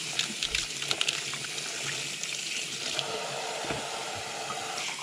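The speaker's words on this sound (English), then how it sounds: "Put some water, try and dilute that up a little bit." Water is poured into ketchup to thin it out for cleaning metal-detected coins, a faint trickling, splashing stream over a constant background hiss.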